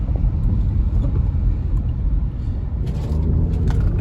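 A 2010 Subaru Forester accelerating onto an expressway on-ramp, heard from inside as a steady, loud low engine and road rumble with no pauses.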